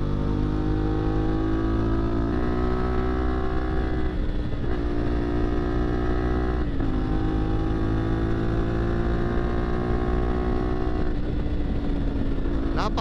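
CF Moto 450MT adventure motorcycle cruising steadily, its engine drone loud and continuous with small shifts in pitch between gears, wind roar mixed in and a rider speaking over it.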